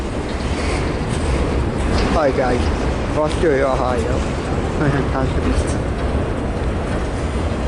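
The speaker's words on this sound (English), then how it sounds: "Yep, I know, that's a long train." A long CSX freight train hauling old GM car-carrier wagons rolls past in Fostoria, Ohio, a steady broad rumble filling the whole stretch while someone talks over it.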